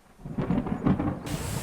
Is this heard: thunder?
yes